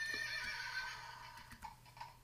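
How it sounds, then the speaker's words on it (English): A child's toy horse, set off by a cat jumping on it, gives a thin, electronic-sounding whinny, fairly quiet, followed by a couple of soft clip-clop ticks. "The cat just jumped on my kid's toy horse"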